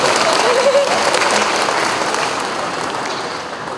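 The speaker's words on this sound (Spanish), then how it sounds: "aplausos" Audience applause for the Banda Filarmónica Municipal de Santa María at a civic music recital in Tlahuitoltepec Mixes, a steady wash of many hands clapping close and loud, easing slightly toward the end.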